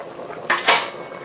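Metal pots and pans clatter in a home kitchen as a big pan with a strainer inside is carried to the sink, two close clanks in quick succession with no talking.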